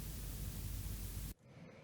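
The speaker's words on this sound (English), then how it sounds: "I turned the cassette noise down a little bit in volume and put the A Bit Warmer Saturator preset on there." Steady cassette tape hiss shaped by a warm saturator preset, a dense broadband noise bed that runs alone at even level, then cuts off sharply near the end, leaving a much quieter residual tail.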